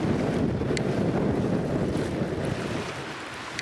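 Gusty wind at the beach buffets the microphone with a heavy, rumbling roar, mixed with a faint wash of surf, loud and continuous and with no one talking.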